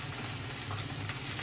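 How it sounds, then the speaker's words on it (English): A sous vide steak searing in oil in a pan sizzles and crackles loudly and steadily, close up, with a constant hissing fry and no talking. "So when you sear a steak, you want to make sure you've got enough oil to coat it."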